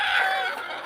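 Mother hen that has just hatched a brood of chicks lets out one brief, loud, drawn-out cluck, close by and alone.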